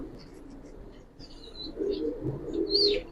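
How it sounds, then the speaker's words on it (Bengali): An old-breed army pigeon coos softly and close by in short low phrases, with faint chirps and rustling around it. "একবারে পুরান জাতের কবুতর"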